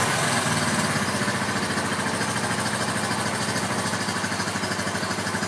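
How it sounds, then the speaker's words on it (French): Suzuki GN 125 motorcycle on its centre stand, engine running at a steady idle with an even, rapid mechanical putter, loud and close throughout. "mise en marche du moteur"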